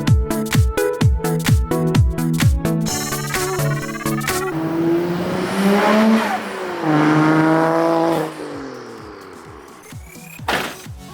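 A Toyota JZX90 Mark II fitted with twin intakes and twin turbos revs hard through several rapid gear changes, then pulls with rising engine tone and turbo whoosh, close and loud, ending in a short burst after a lull.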